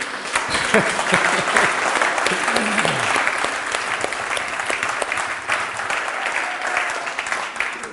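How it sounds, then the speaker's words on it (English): Loud, full audience applause fills the hall after a performance at a talk in Groningen, steady dense clapping with a voice briefly audible over it early on. "Another round of applause for you."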